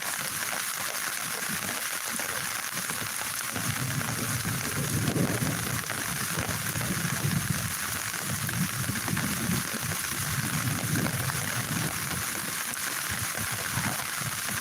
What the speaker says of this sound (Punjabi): ਮੀਂਹ ਪਈ ਬਹੁਤ ਰਿਹਾ